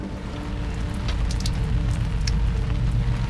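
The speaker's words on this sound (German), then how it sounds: "Es regnet." Rain falling on a sailing boat at sea during a storm, heard as a steady, close wash of dense patter with a few sharper drops striking nearby surfaces, alone without voices.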